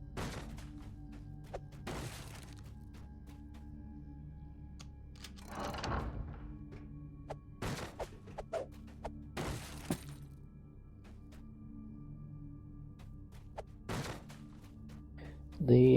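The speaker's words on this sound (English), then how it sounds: "Keep smashing his crates." Wooden crates get smashed in Dungeons & Dragons Online, with several sharp breaking crashes and thuds spaced out over the stretch against a quiet humming background, and a player talking now and then.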